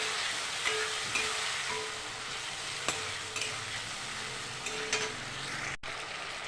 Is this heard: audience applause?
no